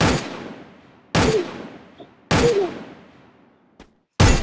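Four loud, close gunshots from a mobile shooter game, each a sharp crack with a ringing decay, spaced about a second apart, with a faint click between them.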